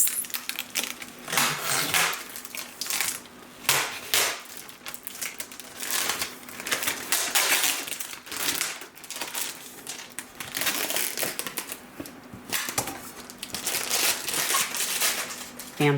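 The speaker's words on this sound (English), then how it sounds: "So I'll go ahead and remove the rest of this protective covering." Protective film peeled off a metal print, a continuous stream of crackling, crinkling rips and sticky tearing noises, close and fairly loud with uneven bursts throughout, no talking.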